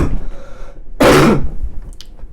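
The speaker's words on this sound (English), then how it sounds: "I got a cough." A single sharp, loud cough or throat-clearing burst from a person close by, framed by quiet room noise before and after.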